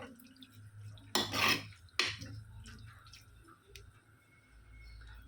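A few sharp clinks of a utensil against a pot, followed by soft wet stirring of salted raw jackfruit mixed with a glass of water for Mangalore-style sukka, and faint kitchen background noise.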